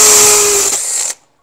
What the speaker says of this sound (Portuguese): ela furou bem fácil aqui na parede de alvenaria, que é de tijolo